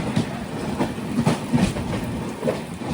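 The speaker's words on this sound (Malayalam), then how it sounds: "4 മണിക്കൂർ വൈകി ഇതാ മത്സ്യഗന്ധ എക്സ്പ്രസ് വരികയാണ്." The Matsyagandha Express on the Konkan Railway pulls into a station, its wheels clattering steadily in a loud, continuous rhythm with no voices over it.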